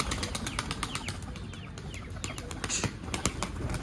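A pigeon flaps its wings, a quick series of sharp fluttering wingbeats sounding fairly faint over background noise and a nearby voice.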